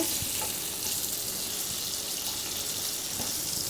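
Bottle gourd cooked with hilsa fish tail being stirred in a pan, a steady soft sizzle with occasional scrape-like clicks of the spoon, close and continuous with no voices.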